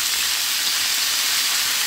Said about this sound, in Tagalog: Gisan muna natin siya.